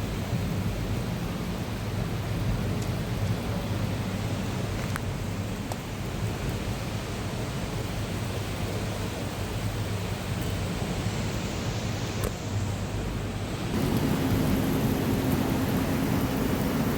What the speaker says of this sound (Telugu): ఇలా వర్షం అయితే స్టార్ట్ అయింది.